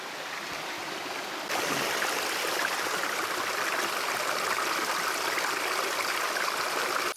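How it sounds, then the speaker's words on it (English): A river stream rushes steadily through Borneo jungle, a dense, continuous watery roar that grows fuller and louder after a moment and then holds without pause, with no voices. "you can remove the sound of the river later"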